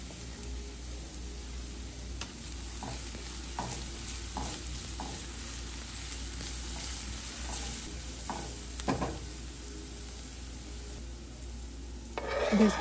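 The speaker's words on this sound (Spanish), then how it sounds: "En un sartén voy a agregar un chorrito de aceite y voy a proceder a agregar la cebolla." Onion sizzles in a splash of oil in a frying pan, a steady broadband hiss that runs throughout with a few light scraping stirs and utensil taps, close and moderately loud, without talk.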